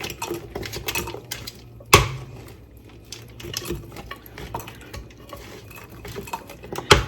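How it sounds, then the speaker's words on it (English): Ribs mixture being stirred and scooped back into a crock pot, with spoon scrapes, utensil clinks against the pot and wet shuffling, one sharp clank near the start of the second second and another at the end. "We're just going to transfer it back into the crock pot."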